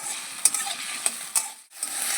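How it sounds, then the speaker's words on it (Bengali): Potatoes sizzle in oil tempered with nigella seeds, with a few sharp scraping stirs against the pan and a brief drop in the frying hiss near the end. "প্রথমে আলুগুলো ভাজা করে নেব"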